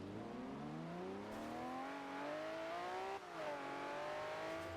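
An Aston Martin engine in Forza Horizon 2 revs and climbs steadily in pitch, drops briefly as the gear shifts, then pulls up again, a continuous smooth drone at moderate distance.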